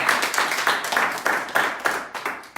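At a church prayer meeting the congregation claps in thanks for the pastor, a rhythmic applause of sharp, evenly spaced beats that sound close and clear.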